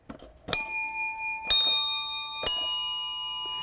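Three hand bells tapped one after another about a second apart, each a bright ringing strike that sustains and overlaps the last, close and clear with no voices.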